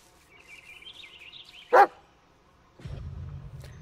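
A dog in the video game Blair Witch lets out a single sharp bark, set between a faint whining tone before it and a low rumbling hum after it.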